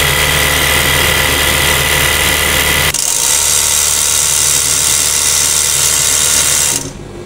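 A double needle lockstitch sewing machine winds thread onto its bobbin with a steady, loud mechanical whir and ratcheting hum that shifts pitch partway through and cuts off sharply near the end, with no voices.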